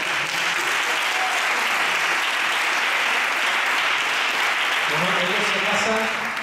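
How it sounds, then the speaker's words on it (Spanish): A congregation at a church service breaks into dense, sustained applause that stays loud and even for several seconds, with faint voices mixed into the crowd noise. "Vamos a darle un fuerte aplauso."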